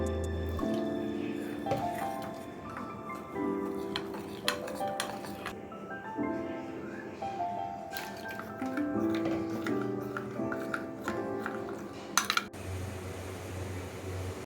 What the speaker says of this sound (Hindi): अब थोड़ा थोड़ा पानी डालकर इसको मिक्स तैयार कर लें और इसकी एक स्लरी सी तैयार कर लें।